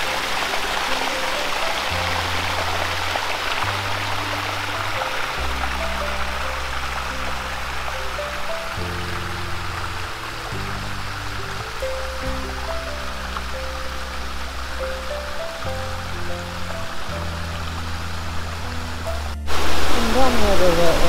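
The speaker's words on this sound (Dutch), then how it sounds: "Allemaal mooie watervalletjes." Small waterfalls in a large park in Alicante give a continuous, even splashing rush, with someone talking over it throughout.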